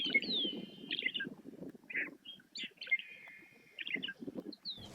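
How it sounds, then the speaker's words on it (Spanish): Birds sing in Patagonian shrubland in Río Negro: bright, faint chirps and whistled phrases repeat from several small birds, with a low rustling murmur underneath and no voices. "Entre los arbustos viven muchas aves."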